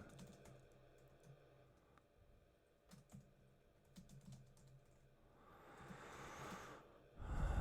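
Quiet keyboard typing indoors, a run of soft irregular keystroke clicks close by, followed by a louder breath or rustle at the end.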